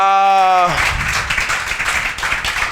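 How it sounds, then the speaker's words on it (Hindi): A teacher's voice trails off, then a classroom full of students breaks into loud, sustained clapping that continues to the end. "मन मीत के लिए जोरदार तालियां बजा,"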